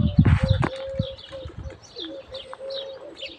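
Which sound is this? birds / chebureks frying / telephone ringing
birds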